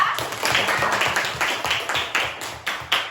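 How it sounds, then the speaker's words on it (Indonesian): Schoolchildren clapping together in a classroom, a rhythmic series of roughly a dozen evenly spaced group claps, close and loud, with no talking. "Tepuk tangan dulu ya"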